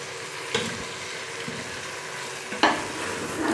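Potatoes added to a pan of frying chicken curry and stirred: quiet steady sizzling with two sharp scraping clatters of the spoon against the pan, no voices.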